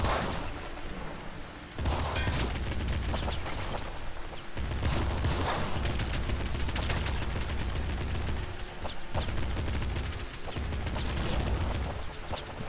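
Sustained, loud automatic assault rifle gunfire in a video game, a dense rapid stream of shots running almost unbroken with a few brief pauses, no talking.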